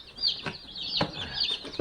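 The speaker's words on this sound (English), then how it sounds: "The new baby chicks have arrived." Newly arrived baby chicks in a box, a chorus of high, shrill peeping close by, repeated in quick overlapping cheeps with small bumps and rustles in between.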